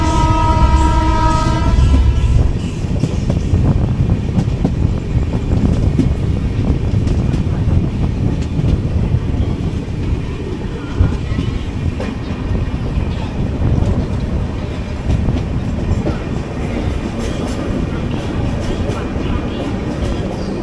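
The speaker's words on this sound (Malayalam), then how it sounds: "നമ്മളങ്ങനെ സേലം ജംഗ്ഷൻ സ്റ്റേഷനിലേക്ക് കയറിയിരിക്കുകയാണ്." An AC Superfast express train rolls into Salem Junction, a steady loud rumble of wheels and carriage noise heard from onboard, with a brief horn-like tone at the start.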